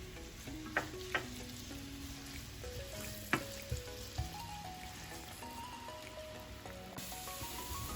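Garlic and ginger frying in hot oil for a traditional Nepali radish and green chili pickle, a steady close sizzle with a few sharp clinks from a stirring utensil, no speech.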